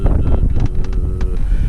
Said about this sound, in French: Il y a toujours ce vent